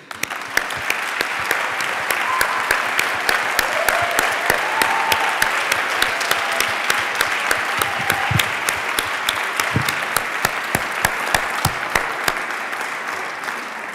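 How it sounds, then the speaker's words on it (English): An audience at the official closing ceremony of the 8th World Congress Against the Death Penalty claps in sustained, dense applause for about fourteen seconds, loud and evenly spread. Nobody speaks over it. "Je vous remercie de bien vouloir l'applaudir."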